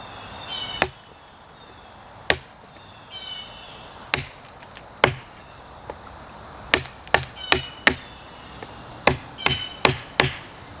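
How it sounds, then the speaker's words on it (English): A knife chops a notch into a piece of wood, giving sharp isolated thwacks spaced irregularly, starting sparse and then coming faster in clustered strikes near the end, crisp and close against a quiet background. "We're just going to chop another notch into it with this knife."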